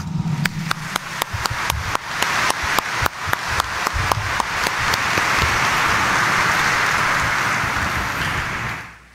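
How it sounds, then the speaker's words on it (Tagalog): Loud applause from a large congregation inside the Minor Basilica of the Black Nazarene, dense clapping with sharp individual claps standing out, building and then fading at the end. "ni Jesus Nazareno, iparinig natin sa Kanya ang mas malakas na palakpak."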